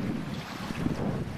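Wind blowing across a Lynx vertical-axis wind turbine with a Lenz2 rotor in a light breeze of about 6 mph, turning near 40 RPM, heard as a steady broadband rush with low rumbling buffeting against the microphone.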